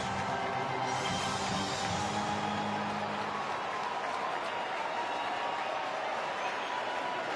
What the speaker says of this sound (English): Crowd starting to swell a little bit.